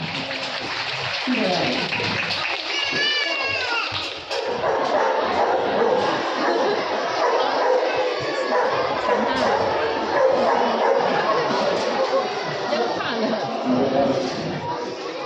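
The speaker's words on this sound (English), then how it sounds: "likes to bark when he moves the sheep" A sheepdog barks and yips repeatedly while moving sheep on an Australian wool farm, over a loud, continuous wash of outdoor noise, with voices talking throughout.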